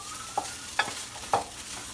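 A spoon mixes fish laab ingredients together in a bowl with three quick clinking scrapes over soft background noise. The sound is close and fairly quiet, with no talk.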